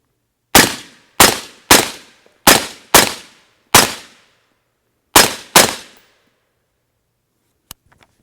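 Eight sharp suppressed rifle shots from a Rugged Surge 762 suppressor fitted with a 30 caliber end cap, fired in two quick groups of six and two with clear gaps between, each a loud crack with a short decaying tail, no talk.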